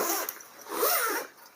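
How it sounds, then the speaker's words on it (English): One of the large rubber-tabbed zips on a Festool FS-BAG guide rail bag is drawn open with a close, scratchy rasp that swells and fades in a couple of strokes, heard alone. "Here 2 very big zips with rubber,"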